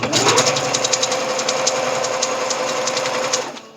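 A sewing machine stitches a romper in one fast, continuous run of close, loud mechanical chatter that slows and stops at the end.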